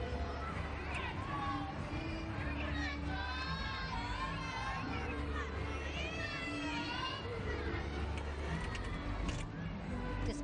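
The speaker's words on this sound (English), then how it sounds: "you can hear the screams from her teammates on the sideline behind her" Teammates on the sideline of a 2009 NCAA gymnastics meet, Auburn at Kentucky, scream and cheer over a constant arena crowd roar, with high shrill shrieks rising and falling throughout.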